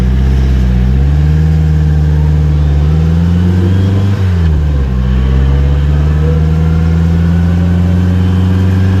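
A Polaris Slingshot R's engine drones loud and steady from inside while driving, its pitch dipping and climbing again midway as the vehicle slows and accelerates through a corner, with no speech.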